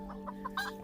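A very small orange chicken clucks in a rapid run of short, soft, close notes over a faint steady hum.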